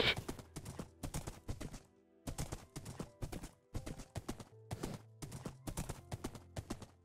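Horse hooves clip-clop in Minecraft Earth as the player rides, a rhythmic run of quick hoof clicks in bursts separated by short pauses, crisp and near, with no talk over them.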